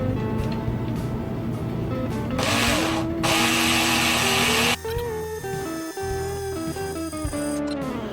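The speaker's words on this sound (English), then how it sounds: "this isn't a fast drill, and I did that on purpose" A close, loud, deliberately slow electric drill whirs and grinds steadily while boring a pilot hole in a DIY bass guitar kit, its pitch slowly climbing as it bites, with a few brief shifts and stutters.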